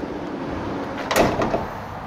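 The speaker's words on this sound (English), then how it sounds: "A huge sliding door here on the side." The large side sliding door of a 2016 Ram Promaster 159-inch 2500 van rolls along its track and clunks shut after a second of quiet idle background, a short moderately loud metallic slide and thud.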